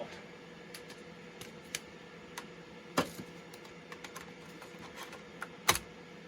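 Keys clatter on the keyboard of a first-generation Compaq Contura laptop in scattered, uneven bursts, with a few sharper, louder strikes standing out over a steady low hum.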